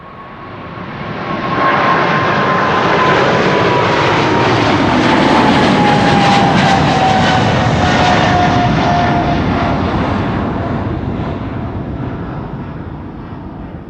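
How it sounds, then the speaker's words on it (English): China Southern Cargo jet aircraft departing Amsterdam Schiphol on flight 454 to Shanghai, a loud, close engine roar with a falling whine that builds quickly, holds steady, then eases off. "China Southern Cargo, flight 454 to Shanghai in China."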